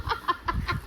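Four short clucking calls from a chicken or rooster, evenly spaced and fairly close, with low rumbling noise underneath.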